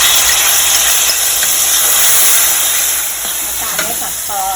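Garlic frying in oil in a pan for a Thai jute leaf stir-fry, giving a strong, close, continuous sizzle and hiss that eases slightly toward the end.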